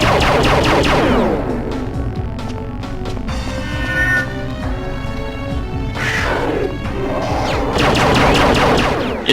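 Alien weapon fire in Perfect Dark, with a dense, continuous crackling, whirring and crashing texture that stays loud throughout and carries a sweeping tonal whine in the middle.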